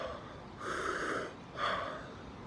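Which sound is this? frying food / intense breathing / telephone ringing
intense breathing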